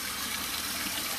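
Strong tap water runs in a continuous bright hiss and gush, close and loud, with no talking.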